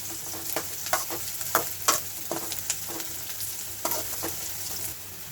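Onions and peanuts fry in a pan, a steady close sizzle broken by scattered crackles and pops from stirring, with no voices.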